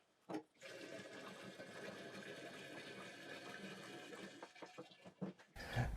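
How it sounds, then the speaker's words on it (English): Apple juice for hard cider pours steadily through a funnel into a carboy, a continuous close splashing gurgle lasting several seconds before it stops. "I always like watching liquids run through a funnel"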